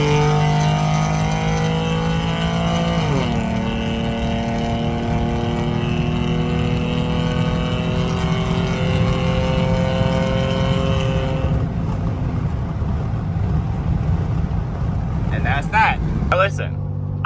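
Car engine revving hard at full throttle with a throttle body spacer and cold air intake fitted, a loud sustained roar that climbs, holds high, then drops away sharply near the end.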